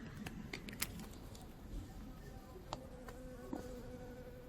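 A bee hovers and buzzes around fading azalea flowers outdoors, a faint continuous drone under steady background hiss with a few sharp ticks and knocks scattered through.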